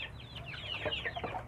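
Chickens clucking steadily at close range, a flock of mixed-breed village birds (Bangkok, Kampung, KUB, Joper) about three to four months old being fed a mash, with repeated short overlapping clucks and no talk.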